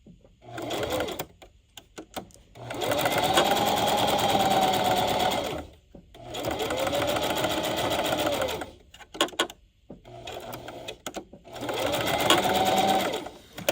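A sewing machine stitches along a marked line on a homemade Christmas gift, running in three steady, loud whirring bursts separated by brief pauses with small clicks, close up and alone.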